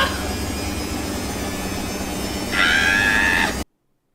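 A washing machine with a cake stuck inside spins up, a steady loud mechanical roar that rises to a higher whine near the end before cutting off abruptly.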